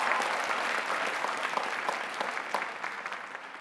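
Applause fills a university commencement ceremony at Carnegie Mellon: a dense, steady wash of many hands clapping, loud and sustained throughout with no talk over it.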